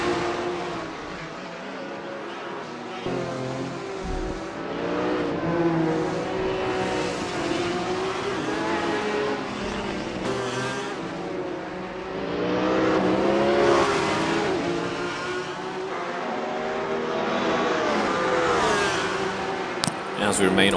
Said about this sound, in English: on board with Rob Whitney and Will Inglis, two closest cars on track, but not quite as close anymore